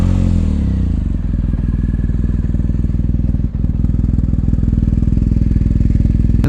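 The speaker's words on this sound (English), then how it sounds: "Let me give you a nice cold start here." A BMW R1250GS motorcycle engine settles into a steady, loud idle after a cold start, its rapid even pulsing thrum close by, with one brief dip midway.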